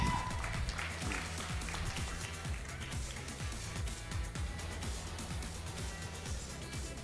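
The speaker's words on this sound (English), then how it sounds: "Clapping won't kill you." Conference audience clapping in a steady, moderately distant wash of applause that runs the whole stretch, with faint crowd murmur underneath.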